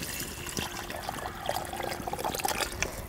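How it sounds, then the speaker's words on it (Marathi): Plain water is poured into a pot of mutton curry cooking over a wood-fired stove, giving a steady, close trickling splash that swells slightly toward the end. "हे जे आपलं आळणी पाणी आहे का नाही हे सुद्धा ह्याच्यामध्ये घालायचं"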